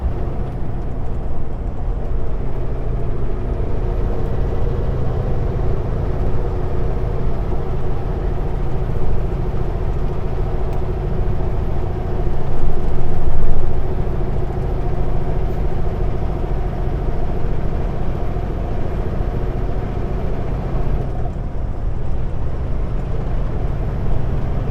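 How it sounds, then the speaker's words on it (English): A truck drives up the Paulson near Grand Forks, heard from inside the cab as a steady, loud engine drone and road rumble with a brief swell in the middle, and no one talking. "If we hear a lot of truck sound, I'm good with that"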